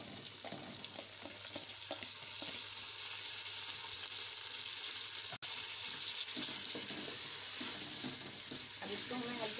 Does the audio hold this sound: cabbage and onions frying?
yes